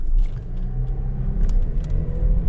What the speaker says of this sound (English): how loud the exhaust sounds from the turbocharged EcoBoost